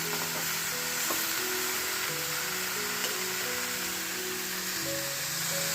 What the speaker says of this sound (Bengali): এবার আমি এর মধ্যে জল দেব